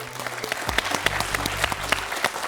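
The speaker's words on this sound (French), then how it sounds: "André, chaleureusement applaudi par le public de Questions pour un champion" Studio audience at the French TV quiz show Questions pour un champion breaks into dense, loud, continuous applause, close and full for the whole stretch with no talk over it.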